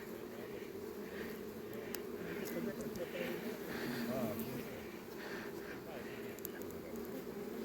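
Carpathian honey bees hum steadily at an open hive in a mountain apiary, a continuous buzzing swarm sound close by that holds through the whole stretch, with a person speaking over it.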